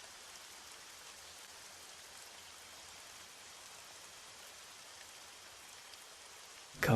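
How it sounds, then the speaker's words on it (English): Steady rain hisses evenly across a scene in the video game Arma 3, a soft continuous patter with no talk until a brief louder burst at the very end. "Can't hear movement too well because of the rain."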